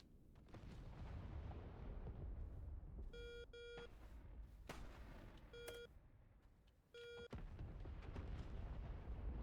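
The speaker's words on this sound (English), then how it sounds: "There we go, I bombed it." Bombs explode in the DCS combat flight simulator as heavy booming blasts, alongside repeated electronic cockpit warning beeps over a steady rumbling background.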